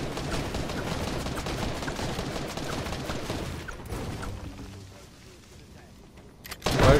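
Dense, continuous bursts of rapid gunfire in Fortnite crackle loudly for several seconds, easing off briefly before a sharp loud blast at the end.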